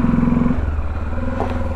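A motorcycle engine runs up close and loud as the rider mounts and pulls away. A steady low drone shifts in pitch partway through, with a few clattering bits over the top.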